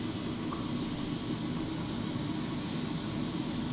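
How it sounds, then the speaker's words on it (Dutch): A helicopter flying over the Grand Canyon produces a constant, loud engine and rotor drone, heard steadily from inside the cabin with no breaks. "Helikoptervlucht boven de Grand Canyon."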